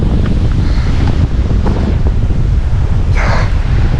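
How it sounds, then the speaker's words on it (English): Loud, sustained roar of an arriving gust front in an early November wind storm, heavy rumbling buffeting on the microphone with rising hiss bursts toward the end. "The gust front's coming in."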